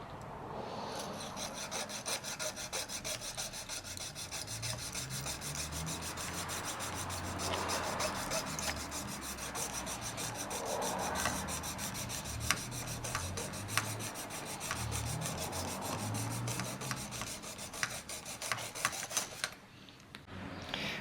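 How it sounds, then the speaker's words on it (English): Steady rasping and rubbing as a hobby tool cuts the driver and seats out of a plastic Scalextric Challenger slot car body, continuous and close for about twenty seconds with small clicks near the end. "Now we've successfully cut the driver and his seat and the passenger seat out"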